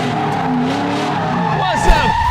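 A Corvette drifts with its tires skidding and squealing in a sustained howl over a loud engine roar, continuous and close for a couple of seconds.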